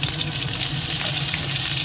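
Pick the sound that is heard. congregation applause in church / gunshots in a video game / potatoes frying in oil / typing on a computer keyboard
potatoes frying in oil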